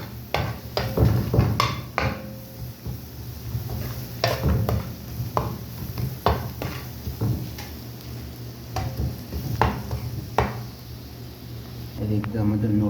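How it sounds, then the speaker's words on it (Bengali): Spices being stirred into noodles in a pan, with a series of scraping, clinking utensil strokes against the cookware over a steady background hum, alongside occasional talk. "নুডলসের মশলাগুলো দেওয়ার পর আমরা এটাকে ভালো করে নেড়ে নিব"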